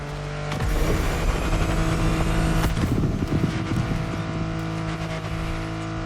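An off-road racing car engine in a video game roars steadily at high revs, with harmonic whine and rumble, a brief surge midway as it powers on at full speed without pause.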